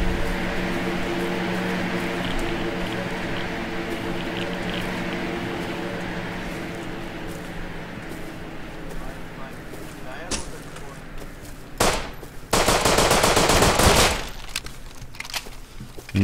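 Gunfire in the survival game Rust, with a single sharp crack and a pair of shots, then a brief loud rattling burst, all over a steady droning background with talk.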